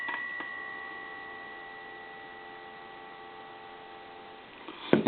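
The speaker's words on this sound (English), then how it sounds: "I'll give you some dial tone" A quiet, steady dial tone from a PTT Holland rotary telephone hums on evenly for several seconds before fading, ending in a faint handling click.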